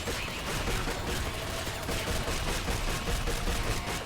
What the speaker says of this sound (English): They're basically automated turret guns with legs.